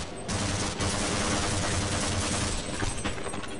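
Loud, dense automatic gunfire in the video game Half-Life, shots from enemy soldiers or a turret rattling nonstop into a continuous roar for the whole stretch.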